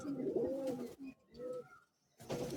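Racing pigeons at a Bagnan club competition cooing close by in soft, throaty bursts broken by short pauses.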